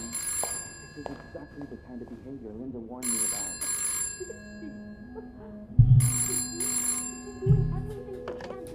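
A telephone rings in several bright, repeated bursts amid game music and sound effects, with a voice talking between the rings.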